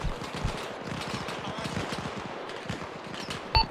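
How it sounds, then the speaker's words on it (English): Rapid automatic gunfire and scattered shots crackle through a firefight in the military video game ArmA Reforger as Soviet mechanized infantry clear a fortified quarry, with dense bursts at mid distance and a sharper report near the end. "we're under fire"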